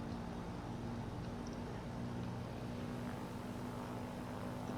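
Steady droning engine and propeller hum of a small aircraft taxiing at a regional airport in Microsoft Flight Simulator 2020, a continuous even rumble with no voices.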